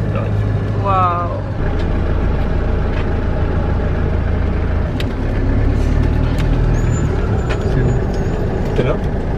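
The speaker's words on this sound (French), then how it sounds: "J'ai l'impression qu'il y a une bagnole qui s'arrête." A car pulls up and stops at a motorway service area in Ireland, its engine rumbling steadily under traffic noise, a brief brake squeal and a person speaking nearby.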